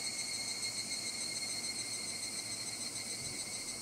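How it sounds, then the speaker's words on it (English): Summer cicadas in the visual novel Higurashi drone in a dense, continuous high-pitched buzz with steady layered tones, unbroken and even in level throughout, with no voices. "Oh, the cicadas."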